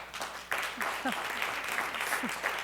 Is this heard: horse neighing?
no